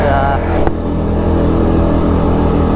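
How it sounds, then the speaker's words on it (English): A steady, close engine drone from an Arctic Cat 1000 TRV ATV running at moderate revs in low range at about 20 mph, loud and continuous with a low rumbling hum throughout. "it feels like it's at a decent RPM where you're not over revving the engine"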